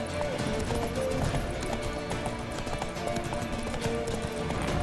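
Roach, Geralt's horse in the Witcher 3 video game, galloping with rapid rhythmic hoofbeats under game music and effects, with a brief voice line over them.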